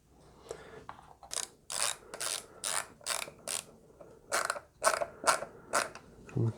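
Screwdriver turns a screw into a Rickenbacker 620/12 guitar body in about a dozen rhythmic squeaky ratcheting twists, close up and fairly quiet, with no talk.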